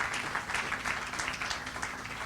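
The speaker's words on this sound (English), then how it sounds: "So would you please give him a big round of applause?" A short burst of crowd applause at a hospital groundbreaking ceremony, many hands clapping together at a steady, moderate level with no voices over it.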